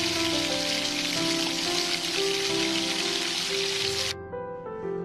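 Egg koftas fry in soybean oil over low heat, a steady dense sizzle and crackle that runs throughout, with background music, before cutting out abruptly near the end.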